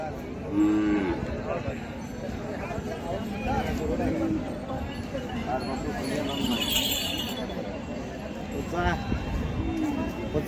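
A pregnant cow moos loudly several times at a livestock market, the low drawn-out calls rising above constant crowd chatter, with faint clinking around.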